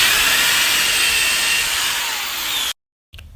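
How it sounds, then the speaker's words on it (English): A power drill whines continuously while boring 1/8 inch pilot holes into oak dowels set in brick, loud and close, then cuts off abruptly, followed by a brief tail of sound. "Drill 1/8 inch pilot holes."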